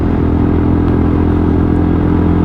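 A Lexmoto Tempest 125cc cafe motorcycle hums along at a steady pace, its single-cylinder engine note loud, close and even, with faint mechanical clatter and no voices.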